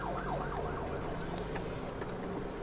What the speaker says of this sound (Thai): รอให้รถกู้ภัยผ่านไปก่อนครับ